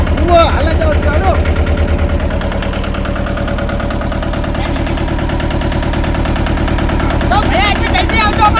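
A farm tractor's engine idles loudly and close by with a steady, low, throbbing chug that runs unbroken for over eight seconds while people talk nearby.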